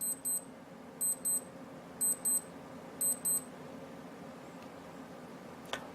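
A small electronic alarm on a Casio G-Shock GWR-B1000 Gravitymaster watch beeps in quick high-pitched pairs, repeating about once a second four times against a quiet room hum.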